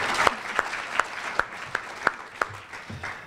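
A chamber of commerce luncheon crowd gives brief applause, heard as a series of distinct sharp claps in an even rhythm, about eight over three seconds, with a faint room murmur.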